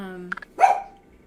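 A pet dog barks once, sharp and close, at someone coming up the stairs indoors, right after a brief bit of a person's voice.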